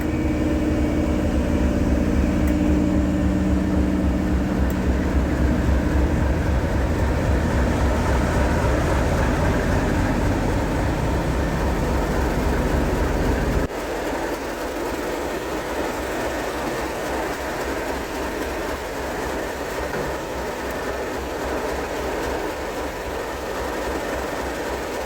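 Diesel locomotive 37215 idling at a station platform, a loud, steady deep rumble with a throbbing engine beat that drops to a quieter, lower hum about halfway through; no voices.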